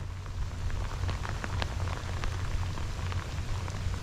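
Heavy rain pours down during Hurricane Francine on a fishing outing, a dense, steady hiss of drops striking surfaces with a low rumble underneath and no voices.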